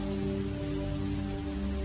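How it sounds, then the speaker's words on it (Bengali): Heavy rain falling at night, a steady dense hiss of drops on surfaces with a low rumbling undertone, continuous and loud throughout with no voices. "আজকে তো বৃষ্টি সারা রাত ধরে চলবে মনে হচ্ছে"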